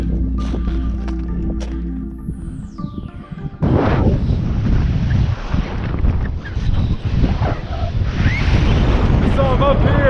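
Strong wind roars across the summit of Mt. Adams near Pikers Peak, a loud, continuous buffeting rush that hits the microphone hard after a quieter opening stretch, with a faint whistle and gusts rising and falling.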